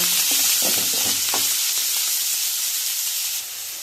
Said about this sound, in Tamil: கருவேப்பிலை, போட்டு நல்லா கிளறிட்டு வதக்கும்.